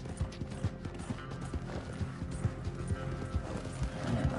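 Rapid hoofbeats of a galloping horse in the video game Red Dead Redemption 2 thud in a steady, driving rhythm, fairly close and continuous, with no talking.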